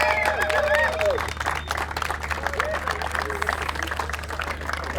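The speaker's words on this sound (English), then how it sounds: "Big round of applause for the referees" A crowd gives a round of applause for the referees at a London rugby sevens festival, scattered outdoor clapping mixed with voices and some whistling tones.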